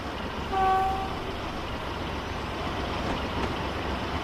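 Train rolling by in the railway building game Transport Fever, a steady broad rumble with a brief whistle-like toot near the start, moderately loud and continuous throughout.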